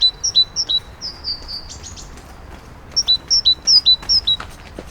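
Great tits singing in an urban park: a quick run of high chirps, then a steady series of repeated two-note whistled phrases, clear and fairly near over faint background noise, with no voices.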